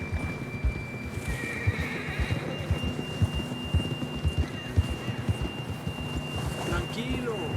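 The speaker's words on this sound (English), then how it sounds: "John was riding that horse when we left Blackwater" In Red Dead Redemption 2, a horse whinnies while hooves clip-clop in a steady trotting rhythm, with wind in the background and some voices faintly underneath.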